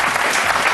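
A studio audience claps for cinema in a brief, dense burst of applause, many hands blending into a steady, fairly loud wash of noise.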